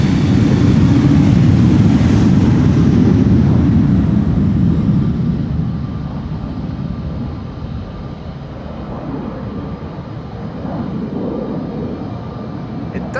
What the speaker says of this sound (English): Spool up sounds coming from the threshold.